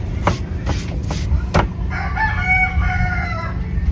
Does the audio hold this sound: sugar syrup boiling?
no